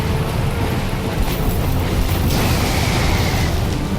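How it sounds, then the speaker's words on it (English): Lightning strike in the Dark Souls video game: a loud, sustained rumbling crash, dense and continuous with a boom-like roar, heard alone without talk. "Avoid the lightning if you can."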